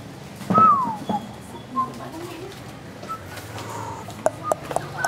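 Birds at a bird breeding farm give soft coos and short whistles, scattered over a few seconds amid low outdoor background noise, with a few sharp knocks near the end.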